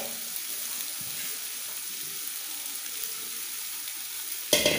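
Fish frying in butter in a pan gives a steady, even hiss that runs throughout, with a brief louder clatter right at the end.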